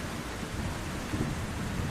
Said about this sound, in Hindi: रात भर तेज बारिश चलती रही।